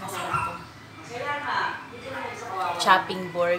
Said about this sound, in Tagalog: pasensya na kayo sa ingay sa labas kasi yung mga aso